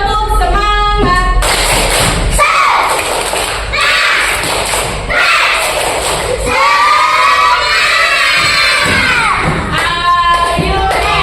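A classroom of children performs a rhythmic spirit clap, sharp bursts of hand claps and thumps alternating with loud shouted chanting, close and energetic, and a teacher's voice leads between the claps.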